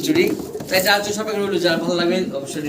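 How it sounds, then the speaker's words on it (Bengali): Short face fancy pigeons coo in soft repeated throaty phrases, close by, heard among voices talking nearby. "ভিডিও স্ক্রিনে আপনারা দেখতেছেন শর্ট ফেস কবুতর"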